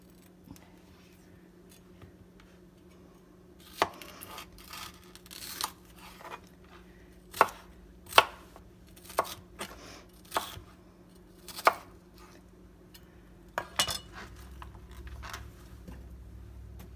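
Knife chopping vegetables into roughly 1-inch pieces for albondigas soup, with a series of sharp, irregular cuts against a cutting board, close and distinct over a low steady background hum.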